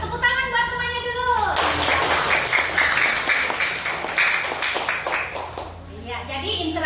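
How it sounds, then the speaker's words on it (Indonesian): A class breaks into lively applause, many hands clapping together for a few seconds, framed by a teacher talking before and after. "Tepuk tangan buat temannya dulu."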